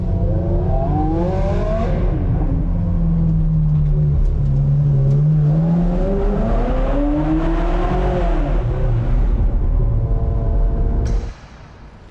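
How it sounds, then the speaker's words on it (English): Two Ferraris being driven in fog to a GT-R festival at Hampton Downs, their engines revving loud and close with rising and falling pitch sweeps through gear changes, until the sound drops sharply near the end. "Driving two Ferraris in the fog to a GTR Festival at Hampton Downs."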